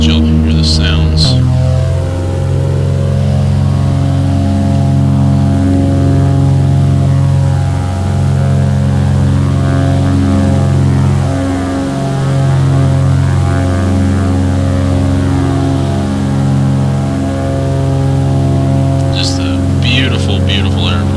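An Aero Commander 500 twin propeller airplane in the Prepar3D flight simulator drones steadily and loudly, its engine tone holding for a long stretch with a brief pitch shift early on and a faint rise near the end.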